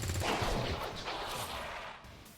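Gunfire from the XCOM video game with the Highlander mod rings out as a dense, loud burst of overlapping shots, sustained for a couple of seconds before tapering off, with no talking.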